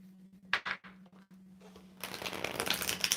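Tarot cards being shuffled, a few crisp flutters followed by a longer riffle, close and quiet, with a low hum in the background.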